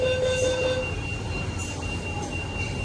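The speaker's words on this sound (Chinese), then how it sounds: "电车即将再次启动，请做好扶稳，请勿扶靠车门。" The Longhua supercapacitor tram in Shenzhen pulls away from a stop, heard from on board as a steady low rolling rumble with a fading electric whine near the start.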